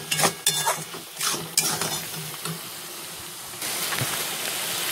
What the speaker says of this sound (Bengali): এবার দিয়ে দিচ্ছে আলু। আলু দিয়ে আবারও কষাবো।